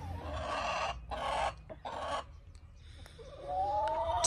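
Roosters cluck and squawk in short harsh bursts close by, with a rising crow-like call near the end over faint outdoor background.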